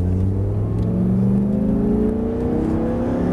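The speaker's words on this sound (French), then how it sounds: "Et tu reprends les gaz." A car engine accelerates under a learner driver during a driving lesson, a steady close rumble with pitch rising smoothly over a few seconds as the revs climb, no talk over it.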